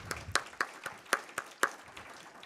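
A handful of sparse, evenly spaced claps at a community flooding meeting in Dane County, quiet and somewhat distant, about eight in total rather than a full burst of applause.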